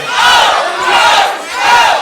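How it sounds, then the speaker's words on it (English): A wrestling crowd yells and cheers in loud, surging waves, the mass of voices swelling and dipping over two seconds. "This whole crowd, I don't understand why they're behind the Big O, Josh."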